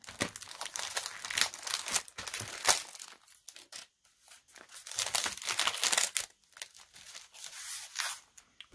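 Thin decorative note-card paper with pretty edging being handled, giving repeated close, crisp crinkling and rustling bursts with brief pauses between them and no talk.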